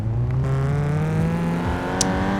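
A Snowbird car in the video game Gangstar Vegas drives with a steady, close engine drone that climbs gradually in pitch as it accelerates, with a faint click near the end.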